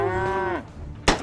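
Cartoon cows moo in an animated show, a loud sustained low moo with a falling tail, followed by a sharp brief thump.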